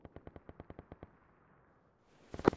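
A vehicle-mounted machine gun in the video game Arma 3 fires a rapid even burst of about eleven rounds at a distance. A short pause follows, then a louder, sharper shot or impact.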